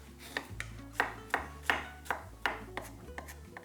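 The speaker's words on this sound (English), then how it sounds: "We mince our ginger by hand." A knife minces fresh ginger by hand on a cutting board, about eight sharp, evenly spaced chops ringing out close and clear over faint background music.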